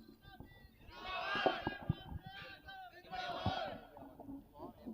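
A crowd at a religious speech shouts the Takbir slogan in response, two loud swelling waves of massed voices chanting together, heard from moderately far off.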